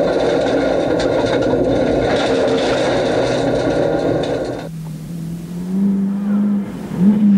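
A Mitsubishi Evo 4 rally car at full throttle on a wide country road stage of a 1997 New Zealand rally, its engine roaring loudly and steadily for several seconds before cutting off, followed by a quieter, rising rev from a following car.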